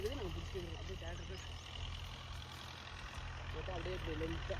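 A tractor engine drones at a steady low idle in a peanut field, with someone talking over it for much of the time.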